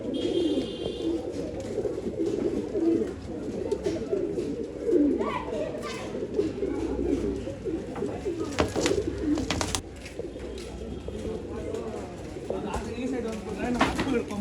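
Tara pigeons coo repeatedly in a pigeon sale setting, a steady low murmuring under people talking, with a few sharper bird sounds near the middle.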